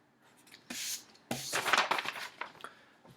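Handwriting during a calculus lesson: a pen or marker scratches out close, quick strokes in a few short bursts, with brief pauses between them.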